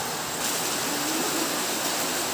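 Steady rain falls outdoors on a hot day, a dense continuous hiss of drops at an even level with no talking.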